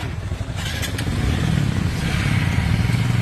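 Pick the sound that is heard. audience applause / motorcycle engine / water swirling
motorcycle engine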